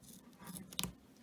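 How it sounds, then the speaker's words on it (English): Scissors snip through a strip of tape on an Arrma Senton RC truck's mudguard, a single short close cut standing out from quiet room tone. "So I'll put a tape right across here. Just cut off a piece"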